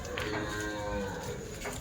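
A Kathiawadi goat bleats in one long, drawn-out call against a noisy background.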